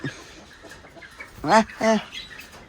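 Two short, loud chicken clucks or squawks sound close up, one after the other, over quiet background noise.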